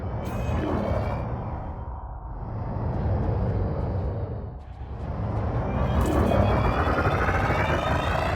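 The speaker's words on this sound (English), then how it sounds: "Your throttle can also be pulled back from zero to engage reverse thrust." A spaceship's engines roar in Elite: Dangerous as reverse thrust engages, a loud, dense rumbling whoosh that swells, dips twice and surges again, steady and close throughout.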